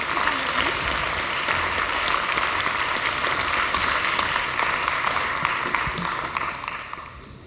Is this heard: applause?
yes